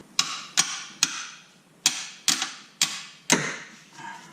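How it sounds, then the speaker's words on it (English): Seven sharp metallic hammer strikes on a bolt during a Nissan Versa Note CVT transmission removal ring out at an uneven pace, each a bright clanging hit with a short decay, loud and close. "So the last one we're going to get with a hammer."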